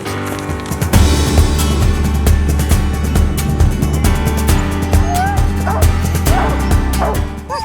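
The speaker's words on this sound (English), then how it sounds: "There's a few that won't stop barking" Husky sled dogs bark and yip repeatedly and excitedly, eager to run, in a loud, dense chorus with steady low rumble underneath and occasional whines.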